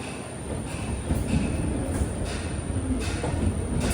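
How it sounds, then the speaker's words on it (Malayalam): An Amrit Bharat Express train on the Mangaluru–Thiruvananthapuram route approaches platform 1 at a crowded station with a steady close rumble of rail cars and faint wheel squeal threaded through. "1-ാം നമ്പർ പ്ലാറ്റ്ഫോമിലേക്കാണ് ട്രെയിൻ വരുന്നത്"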